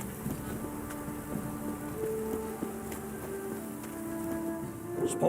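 Steady rain in The Witcher 3 Wild Hunt, a soft continuous patter of drops on surfaces with a few brighter individual splashes, moderately quiet and even throughout with faint tonal game ambience beneath.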